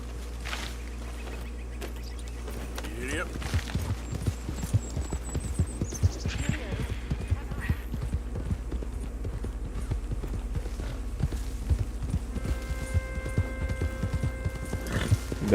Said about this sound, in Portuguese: Diabo de cavalo. Vou vender esse cavalo.